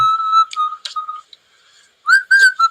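Bright, tuneful whistling from one person, a few short phrases with a pause in the middle, close and clear with no talking.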